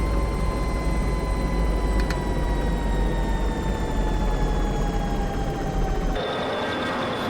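A helicopter in Microsoft Flight Simulator flies with a loud, constant rotor-and-turbine drone and a steady whine that slowly drops in pitch before the sound cuts lower near the end.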